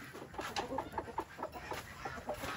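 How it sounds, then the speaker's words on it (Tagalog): Two chickens cluck softly in short, repeated bursts, one of them said to have a wheezy chest. The calls are quiet and close, with no talking. "So yung dalawang manok dito, may halak tong isa eh."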